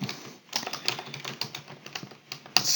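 Fast, uneven clatter of computer keyboard keys being typed close up, a dense run of clicks with a short pause before a final louder keystroke.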